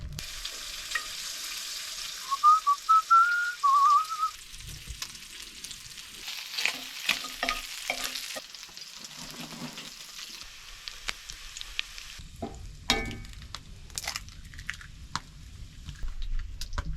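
Bacon fries in a pan at a winter camp with a soft, continuous sizzle, broken by bursts of handling and clatter, a brief squeak, and a louder pop and scrape near the end.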